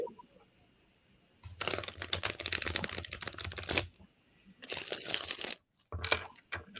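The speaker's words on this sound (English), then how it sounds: "Shuffling loudly." A deck of playing cards is shuffled loudly in several crisp riffling bursts of rapid flutter, each lasting a second or two, with short pauses between them.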